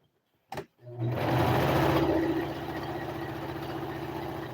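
Sewing machine stitching a decorative shirt, starting after a brief knock and then running steadily with a dense mechanical whir and rapid needle rhythm, loud and close, easing slightly in speed halfway through.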